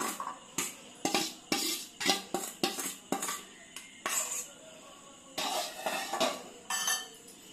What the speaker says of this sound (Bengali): আলু সেদ্ধগুলো আগে মাখিয়ে নেব।